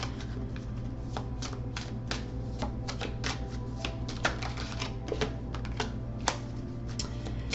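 Tarot cards being slid, shuffled and laid out on a table, producing dense, close, rapid papery flicks and taps in a steady, busy stream with no talking.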